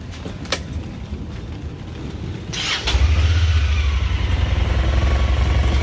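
A 2016 Honda Pioneer 1000-5 UTV fitted with a homemade snorkel cranks briefly and fires up, then settles into a steady, loud low idle rumble close by.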